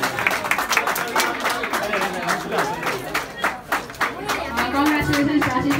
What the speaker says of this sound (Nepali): कृपया जोरदार तालीले उहाँलाई स्वागत गरौँ